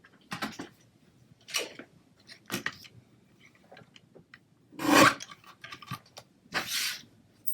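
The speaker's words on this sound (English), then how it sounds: "Let me trim my lamb real quick." Scissors snip around a paper lamb cutout for a stamped nativity card craft, a few short close cuts and rasping paper rubs spaced apart in a quiet room, with no talking.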